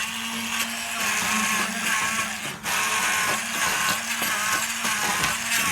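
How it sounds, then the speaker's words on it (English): A blender whirs steadily at high speed pureeing asparagus and potato soup, with a brief dip partway through before the motor roars on again. "now we are using this blender to actually smoothen this out a little bit"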